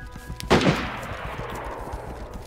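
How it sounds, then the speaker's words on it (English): A single loud gunshot in DayZ, a sharp close crack with a long rolling echo that decays slowly over the next two seconds. "That guy's really close to me, that guy just shot"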